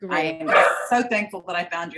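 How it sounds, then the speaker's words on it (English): Household dogs bark in the background while someone speaks steadily over them, the barks partly masked by her voice. "I'm sorry my dogs are barking."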